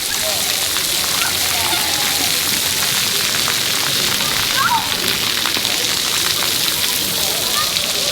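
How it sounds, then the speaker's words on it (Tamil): Water sprays continuously from a button-activated splash pad fountain at Wasaga Beach, giving a dense, even hiss and patter that stays loud and close throughout. "ஆன் ஆனோடனே இங்கே தண்ணி வருது பாருங்க"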